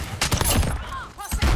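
Gunfire in Call of Duty: Modern Warfare, a quick cluster of close, loud shots and thuds in rapid succession, briefly dipping before another blast at the end.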